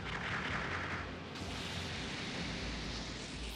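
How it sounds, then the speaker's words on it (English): Missile launcher firing in the Gundam strategy game SD Gundam G Generation, giving a dense, sustained roar of blasts and explosions that fills the whole stretch at steady loudness, with no talk. "Missile launcher."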